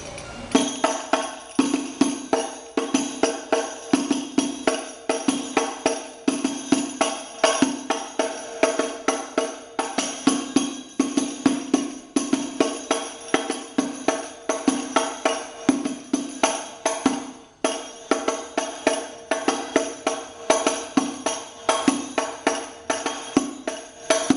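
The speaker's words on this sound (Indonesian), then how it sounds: "bunyi tabuhan hadroh atau alat musiknya biasa disebut rebana." A steady, fast hadroh rhythm on rebana frame drums repeats throughout, dense and close, with no talking.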